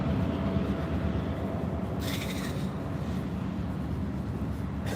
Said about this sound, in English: Is the last car of the train gonna be synced too?